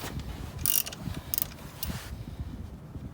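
A ratcheting socket wrench clicks in a few quick bursts while loosening a pinch bolt on a BMW R1200GS front fork, close and fairly quiet, with short pauses between the strokes.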